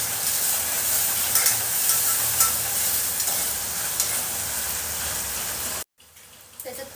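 Chillies and biryani masala sizzle in a hot pan while being stirred, a steady close frying hiss with scraping stir sounds on top, cutting off abruptly near the end to quieter kitchen noise.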